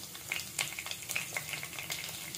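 Whole garam masala spices, including cinnamon, cloves, cardamom and shahi jeera, fry in hot oil with a close, lively sizzle and scattered sharp crackles and pops, and no speech is heard.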